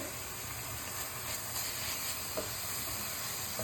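Garlic and ginger go into a pan of browning onions for a satay chicken curry, giving a steady, close sizzle and hiss with no voices.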